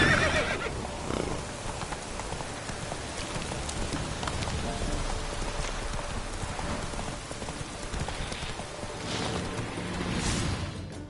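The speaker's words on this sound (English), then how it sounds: "Run, Roach" In The Witcher 3, a horse gallops through rain with rhythmic clip-clopping hooves and an occasional neigh, all over a constant hiss of falling rain that lasts throughout.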